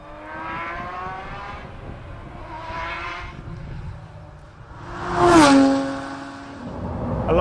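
A Ferrari F50's V12 engine, rated at 513 brake horsepower, revs repeatedly and rises in pitch with each blip, building to one loud surge before settling back to a lower idle, heard alone.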